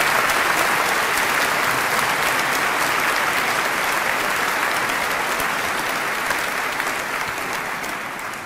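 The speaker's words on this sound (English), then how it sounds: "May I kindly now have a round of applause for your educators, mentors, and your families supporting you here today." A large audience at a university graduation ceremony claps steadily and loudly, a dense even wash of applause that carries on unbroken, easing slightly toward the end.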